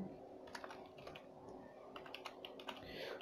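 Someone types a short word on a computer keyboard in a quiet room, with soft, rapid, irregular key clicks running throughout at low volume.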